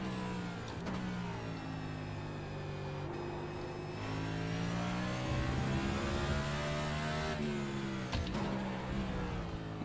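A NASCAR Next Gen race car in iRacing revs hard at Circuit of the Americas, its engine pitch climbing and dropping through gear changes in a loud, smooth whine with brief dips between shifts.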